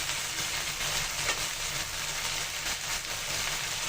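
Raw spice paste with salt and turmeric frying in a pan for a Bengali sarputi fish bhuna, giving a steady, close broadband sizzle that holds evenly throughout with no talking.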